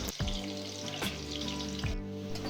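Bay leaves with whole cinnamon, cloves and cardamom crackle in hot oil, a soft continuous sizzle broken by three scraping spatula strokes that ring with a tonal, metallic edge.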